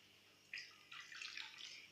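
Water poured into a pan of melted butter with salt and sugar for bread roll dough, a brief quiet splashing trickle in two short pours after a moment of near silence.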